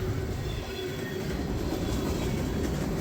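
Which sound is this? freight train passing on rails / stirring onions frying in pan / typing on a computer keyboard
freight train passing on rails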